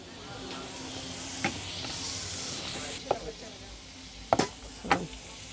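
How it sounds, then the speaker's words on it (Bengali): Jumbo king prawns cooking in a pan give off a soft steady sizzle and hiss, with a few sharp clinks and scrapes of utensils against the pan. "টেস্ট অফ বেঙ্গলের জন্য আমরা প্রনটা কুক করতেছি কিং প্রন জাম্বু কিং প্রন"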